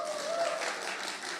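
A church congregation applauds in a brief burst of scattered clapping, close and fairly loud, with a voice faintly mixed in.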